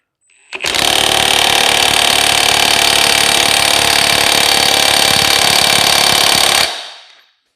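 Impact gun hammering on an Astro Tools exhaust stretcher fitted inside bent stainless steel exhaust tubing, one loud continuous rattling burst of about six seconds that starts and stops abruptly, close up with no talking.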